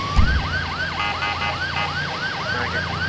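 A loud wailing video game emergency vehicle siren sweeps up and down rapidly and repeatedly, close by, over a low engine rumble.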